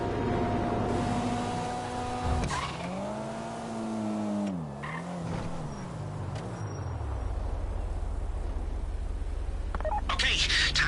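Phone dialing tones in the video game GTA V, set off to trigger a bank vault door: a run of steady tones that give way to stepped, wavering beeps over a constant engine rumble, with a voice talking over part of it.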